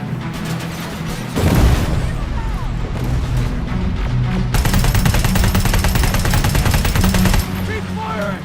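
Loud, dense gunfire in the shooter game Terminator Resistance, with bursts of rapid automatic fire and booming impacts running throughout, the heaviest stretch near the end, all under shouted voices.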